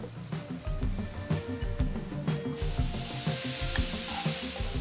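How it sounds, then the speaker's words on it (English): Onions sizzle and crackle in hot olive oil at close range, with a stirring clatter early on before the frying hiss swells and holds steady. "Now add a little bit of olive oil and get the sizzling going."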